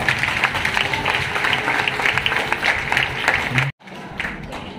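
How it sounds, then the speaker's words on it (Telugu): Wedding guests at a Christian wedding applaud together in a dense, steady burst of clapping that cuts off abruptly near the end, followed by quieter room noise. "అందరూ క్లాప్స్ గట్టిగా కొడతాము."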